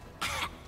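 One short, rough cough comes from someone off to the side during a multiplayer video game session. It is fairly faint and heard alone, with no talking over it.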